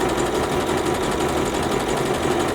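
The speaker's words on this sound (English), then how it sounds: "we're just gonna stitch the crotch and work our way from there" A sewing machine runs in one continuous, close, fast stitch as it sews the crotch seam of a bikini swimsuit.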